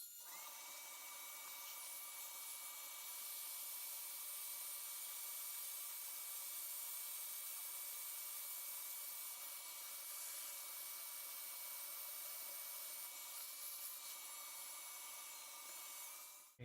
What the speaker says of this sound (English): Put the cutting bed on top of Dremel, and we're just gonna simply cut.